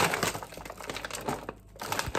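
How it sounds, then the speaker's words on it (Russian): A plastic food package is crinkled and torn open by hand, close to the microphone, with dense rustling and crackling that briefly drops near the middle before picking up again. "сейчас я свои буду открывать эту пачку"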